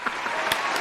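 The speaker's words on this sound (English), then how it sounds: "The claps better be ringing through the fucking stadium" A crowd applauding in a dense, steady wash of clapping at a live comedy show, close and fairly loud for a brief moment.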